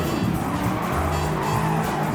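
Race cars in Gran Turismo 7 launch off the start together, a dense, loud, steady roar of engines with tire squeal running through the whole stretch.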